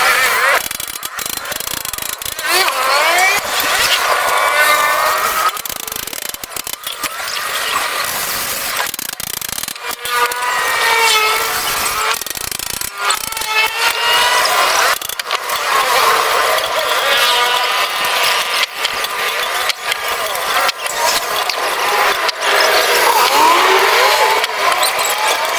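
A diamond cutter grinds along the edges of mirror glass, giving a steady, loud, harsh abrasive scraping that runs nearly without pause, broken by brief gaps and rasping strokes.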